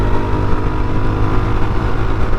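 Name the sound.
Yezdi Scrambler motorcycle accelerating after shifting gear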